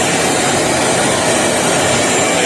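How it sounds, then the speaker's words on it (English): A Craftsman 16 gallon wet/dry shop vac, 6.5 peak HP and fitted without its exhaust baffle, runs close by with a loud, steady broadband whooshing roar that holds constant the whole time. "This thing is like not loud at all, really, for a shop vac."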